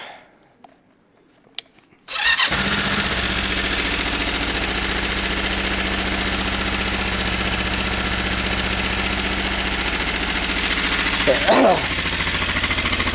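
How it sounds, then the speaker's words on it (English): Gilera DNA 125 scooter engine, choke on, after a fuel problem fix: brief quiet handling noises, then the engine catches and settles into a loud, steady, close idle with rapid pulsing, and a short blip near the end. "Let's give it a bit of choke. Let's fire it up."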